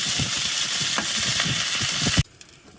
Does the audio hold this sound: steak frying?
yes